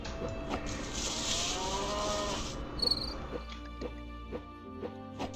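Cattle low in a farming video game, a sustained moo over a bed of chirping crickets, followed by quieter ambient insect and farm sounds with soft rhythmic ticks.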